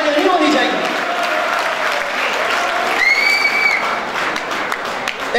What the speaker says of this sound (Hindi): आप इसके लिए इतनी तालियां, ऐसी कमजोर तालियां नहीं होनी चाहिए।